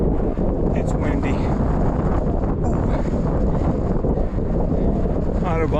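Strong mountain wind on Mt Audubon roars against the microphone in a loud, unbroken rush, with a few faint sounds briefly rising above it.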